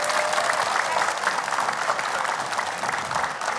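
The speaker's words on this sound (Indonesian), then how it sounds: "tepuk tangannya lebih semangat" Steady, dense applause from a studio audience at an Indonesian religious talk show, clapping energetically and evenly throughout with no break.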